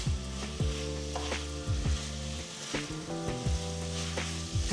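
Large potato pieces sautéing in a pan give a steady close sizzle, with spoon stirs and scrapes recurring every second or so and no speech.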